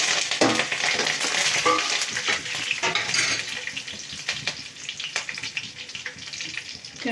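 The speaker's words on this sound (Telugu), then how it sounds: "బాగా వేగిన తర్వాత కరివేపాకు వేసుకున్నాం." Curry leaves frying in hot oil for a drumstick-leaf chutney, a continuous close crackling sizzle with scattered pops and light stirring clinks throughout, no voices.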